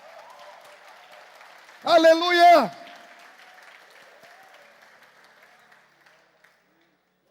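A church congregation stands and applauds, a short loud burst of clapping and cheering lasting under a second, with a preacher's voice shouting over it and quieter talk before and after.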